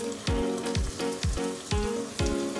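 Tilapia fillets frying in a pan give a steady sizzle. Five sharp, regularly spaced clinks or taps cut through it, and no one speaks.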